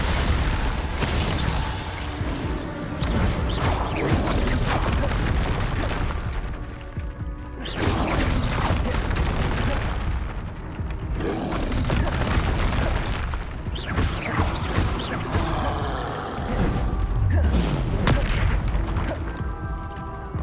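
Repeated Confringo blasting-spell explosions in Hogwarts Legacy, loud booming bursts and crackling impacts recurring every few seconds amid steady combat noise.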